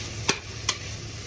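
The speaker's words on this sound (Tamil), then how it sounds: "வெங்காயம் போட்டுக்கோங்க. நல்லா வதக்கி விட்டுக்கோங்க." Chopped onions fry in oil in a pan for biryani under a quiet, steady sizzle, broken by two sharp, brief scrapes of a spoon stirring them.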